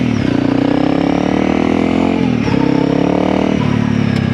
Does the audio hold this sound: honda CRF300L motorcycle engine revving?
yes